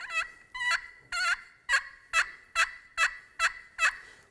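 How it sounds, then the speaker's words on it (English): A handheld turkey call costing under $20 produces a series of about ten loud, evenly spaced gobble-like yelps, each with a quick two-note break, repeated alone without talk. "A good turkey call will have two notes."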